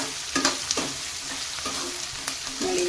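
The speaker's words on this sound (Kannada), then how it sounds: "ಸಣ್ಣದಾಗಿ ಕಟ್ ಮಾಡಿಟ್ಟಿರೋಂಥ ಈರುಳ್ಳಿ, ಸ್ವಲ್ಪ ಕರಿಬೇವು, ನೋಡಿ ಇದನ್ನೀಗ ಚೆನ್ನಾಗಿ ಈಗ ಫ್ರೈ ಮಾಡ್ಕೋತೇನೆ" Finely chopped onion and curry leaves fry in oil in a pan, a continuous sizzle broken by several sharp scrapes of a spoon stirring, close up, with no talking.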